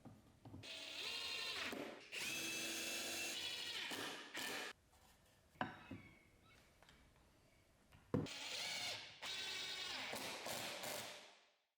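A power drill drives wood screws while a small wooden music stand is assembled, with three long whirring runs separated by quieter gaps holding a few taps and thuds, and no talking.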